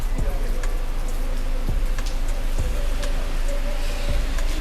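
Heavy rain pours down on flooded city streets at night, a dense, steady hiss with scattered drops. A few low thumps come from passing traffic.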